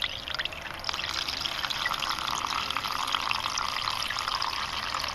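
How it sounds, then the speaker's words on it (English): Acid fluid siphoning out of a tank through a hose into a coffee pot during gold recovery from scrap electronics, a steady close trickle of running liquid that goes on without a break. "we're gonna siphon the fluid out of this tank down through the coffee pot"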